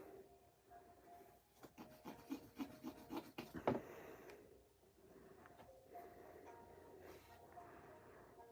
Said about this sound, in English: these I will sand a little bit